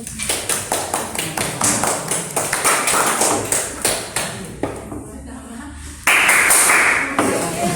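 A classroom group claps, giving a quick, steady run of sharp claps for several seconds before a louder noisy burst near the end. Voices mingle with the clapping.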